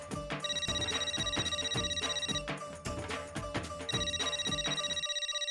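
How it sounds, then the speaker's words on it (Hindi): A telephone rings with a repeating electronic melody in the TV sitcom Taarak Mehta Ka Ooltah Chashmah, loud and close, the tone pattern cycling steadily before cutting off near the end. "हाथी भाई के घर से फोन है"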